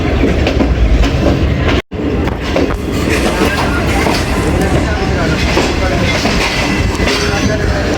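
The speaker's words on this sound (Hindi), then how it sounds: "रावलपिंडी से निकल गई हमारी ट्रेन" Green Line Express passenger train pulling out of Rawalpindi, a loud steady rumble of wheels and carriages with rhythmic clatter throughout, one brief dropout near the start, over continuous background noise.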